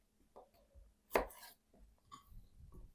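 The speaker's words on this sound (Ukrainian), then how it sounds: "Редис ріжу або навпіл, або на четвертинки." A kitchen knife slicing radishes into halves or quarters on a board: one sharp, fairly close cut stands out, surrounded by faint, scattered little taps and board noise.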